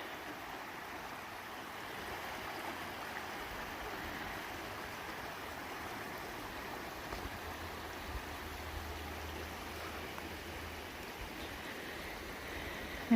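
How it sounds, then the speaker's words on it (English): Steady rushing of water flowing down a creek bed with small waterfalls at McCormick Creek State Park, a constant even wash with no voices. "Look, there's little waterfalls all over."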